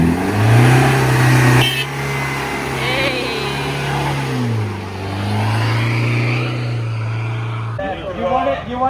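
A twin-locked Nissan Patrol 4x4 engine rumbles and revs with light throttle on a rough off-road forest track, the pitch rising and falling close by while people talk over it.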